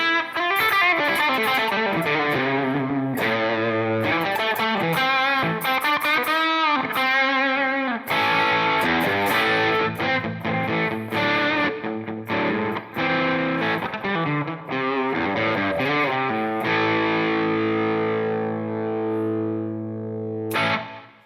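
Electric guitar on the bridge pickup played through a Headrush unit with overdrive, delay and reverb, distorted chords and riffs ringing out loudly and ending on a sustained chord that decays into reverb tail.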